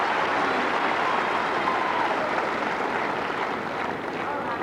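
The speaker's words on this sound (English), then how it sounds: "Well, crowd really showing their appreciation." Sustained applause from a tennis crowd in Adelaide after a long rally in a 2001 quarterfinal between Hewitt and Haas, a steady wash of clapping at even loudness throughout.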